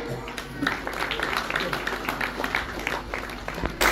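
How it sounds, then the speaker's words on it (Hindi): A crowd applauds to welcome guests arriving at a Kabir Panth community gathering, steady dense clapping running throughout, with a public-address voice mixed in over it. "तालियों से अभिनंदन करें"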